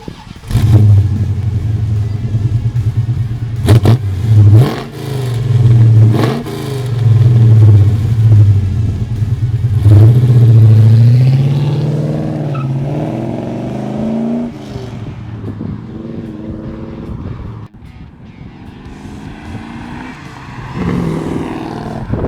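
A 1965 Chevrolet Malibu SS V8 fires up and revs hard in repeated loud bursts, the engine note rising and falling before settling toward a rougher idle, close and dominant throughout.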